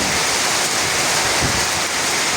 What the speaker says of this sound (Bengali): প্রচুর বৃষ্টি হচ্ছে, সাথে বাতাস, উল্টা পাল্টা বাতাস